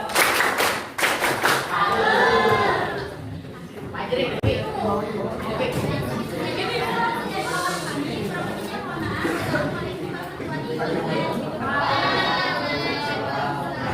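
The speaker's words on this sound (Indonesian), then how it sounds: "Kita berikan tepuk tangan ya." Students in a year-ten high school class in Bogor clap their hands together, with several quick sharp bursts of clapping mixed among lively classroom chatter and voices throughout.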